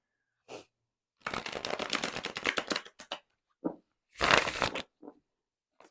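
Wax-coated playing cards on US Games buttery matte or semi-gloss stock are given an overhand shuffle, producing a long close run of rapid riffling flutter. Shorter bursts of card handling follow, and no one speaks.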